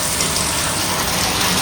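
Water gushes steadily into a filled water tank, a loud continuous rushing wash with no break and no voices over it.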